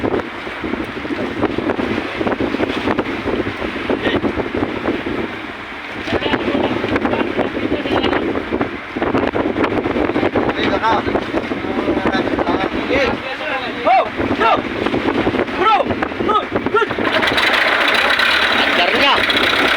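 A fishing boat's engine started with a hand crank and then running steadily at sea, its drone mixed with wind buffeting the microphone and people talking and cheering nearby.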